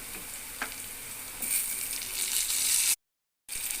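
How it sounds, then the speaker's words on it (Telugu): Vegetables for poha upma sizzle and fry in a pan, a steady bright crackling hiss that grows louder partway through, with a brief silent cut before it resumes. "అన్నీ వేగిపోయాయి"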